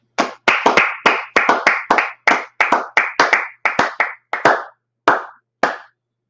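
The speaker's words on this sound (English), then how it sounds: "Let's clap it up." Sharp, close hand claps ring out at an evening religious class, about seventeen crisp separate smacks in a loose, uneven rhythm that spaces out and thins toward the end, with near silence between them.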